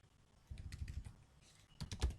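Keys clatter on a computer keyboard while someone writes Laravel code, soft close clicks in two quick bursts separated by a short pause, with no talking.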